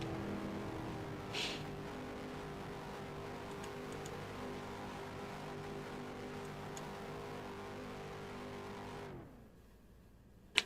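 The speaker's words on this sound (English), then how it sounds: "Twin is now doing donuts on the grass" Race car engine droning steadily as it spins donuts on grass at a road course, a sustained, even hum at moderate distance that cuts off abruptly near the end, with no talking.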